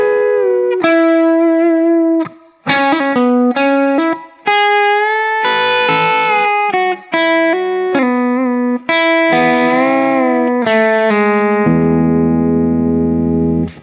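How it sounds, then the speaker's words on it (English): An electric guitar plays country pedal steel-style bends on double stops, one string bending while the other note holds. Loud, sustained phrases with gliding pitches play alone, ending on a lower held chord. "the next thing that's really big in country guitar is pedal steel bends"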